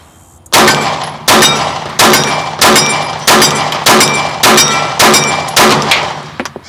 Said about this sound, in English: We'll shoot just maybe a couple more.